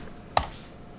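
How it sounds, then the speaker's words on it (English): A single sharp key tap on a computer keyboard sounds close and quiet during work in Houdini, followed by near silence. "We can hit tab and type box"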